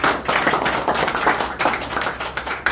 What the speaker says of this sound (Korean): 다시 한번 큰 박수 한번 보내주십시오.